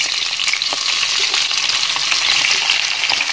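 Onions for beef biryani drop into hot oil in a frying pan, producing a loud, continuous, close sizzle with scattered crackles and stirring scrapes and no talking.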